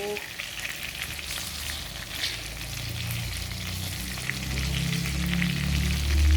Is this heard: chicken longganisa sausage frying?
yes